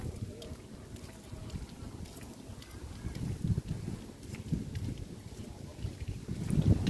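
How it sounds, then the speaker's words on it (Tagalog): Steady wind in a farm field buffets the microphone with a low rumbling roar that swells and gusts, fairly faint overall, with no clear talk. "Lakas ang hangin, eh."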